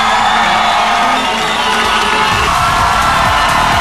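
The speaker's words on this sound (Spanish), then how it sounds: "A ver, un fuerte aplauso, por favor" A studio audience on the Peruvian TV variety show Sin Límites cheers and shouts loudly and continuously, a dense crowd roar with whoops and children's voices, welcoming the Chocolocos, Marc Anthony and La India.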